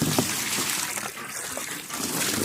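Water poured from a bucket into a former duck pond in a winter farmyard, a steady broadband splashing gush that runs continuously and fairly close for the whole stretch, with no talk over it.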